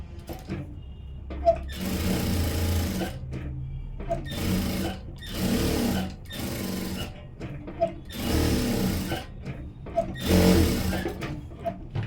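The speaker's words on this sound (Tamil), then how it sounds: "இப்போ லைனிங்கை சுற்றி பெரிய தையல் போட்டுடலாம்" Sewing machine running in several bursts as it stitches around the lining of a blouse front, with short pauses between runs and faint background noise; no talking.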